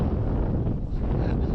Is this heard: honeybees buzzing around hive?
no